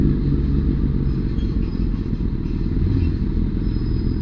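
A powerful motorcycle engine is held at a heavy, steady rumble with throttle play, loud and close, with a dense low mechanical roar and slight clatter throughout and no voices.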